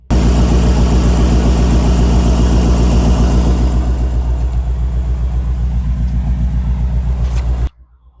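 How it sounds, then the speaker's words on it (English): A 2017 BMW M6 idling, heard from the driver's side of its dual exhaust with twin exits: a loud, deep, evenly pulsing rumble that eases slightly midway, then cuts off abruptly near the end. "we'll move back and get a listen to the exhaust"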